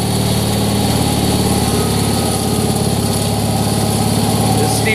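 An Air horse aircraft tug, a tractor-like hydrostatic machine, runs its engine in a steady, close, loud idle with a pulsing low rumble and constant tonal hum throughout.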